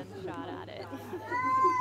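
A cat meows in a drawn-out, wavering call close to the microphone, heard under someone talking and over a low steady hum, rising again near the end.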